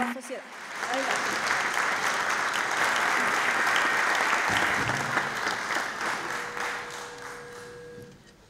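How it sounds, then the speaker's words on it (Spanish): An audience at a magazine presentation applauds a presenter, the clapping swelling quickly into a full, steady roar and then tapering off, with a few voices audible near the end. "Recibimos, por favor, con un fuerte aplauso a Pablo Stefanoni"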